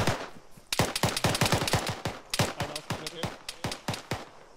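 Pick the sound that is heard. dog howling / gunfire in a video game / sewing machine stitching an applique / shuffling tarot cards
gunfire in a video game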